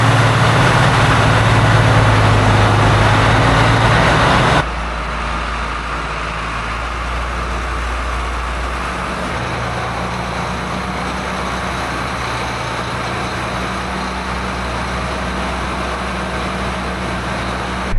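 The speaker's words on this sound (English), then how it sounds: "This tractor started right up." A loud tractor engine roars close by on starting after sitting all winter, then drops abruptly to a steady, lower idling rumble that continues evenly to the end.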